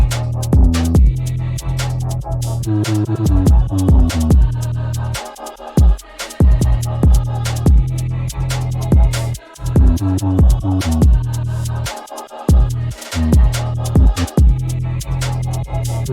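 A punchy electronic beat with deep booming 808 kick drums thumping steadily under a looping melody, loud and continuous.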